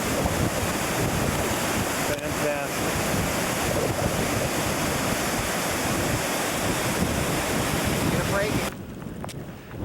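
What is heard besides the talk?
river flowing in the village of Sneem, Ireland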